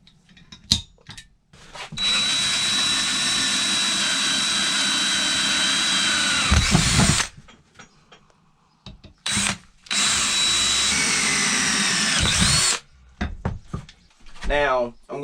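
Power drill boring holes in metal with drill bits during a pit bike Predator 212 engine swap, two long steady high whining bursts of several seconds each with short clicks and pauses between.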